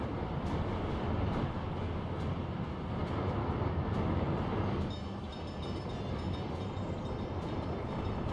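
Trains in the Workers & Resources: Soviet Republic game rumble along the rails in a dense, continuous roar with faint rhythmic clacking, loud and steady throughout.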